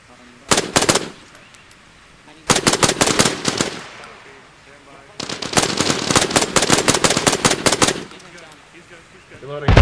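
Automatic gunfire in the military game Arma Reforger, three long bursts of rapid sharp shots separated by short quiet gaps, close and loud.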